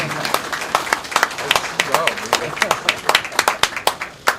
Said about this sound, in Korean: 박수를 보내주시면 좋겠습니다.